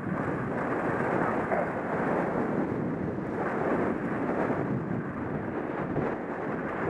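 Wind blowing outdoors: a steady, rough rumble of gusts buffeting the microphone, loud and continuous throughout, with little variation in strength.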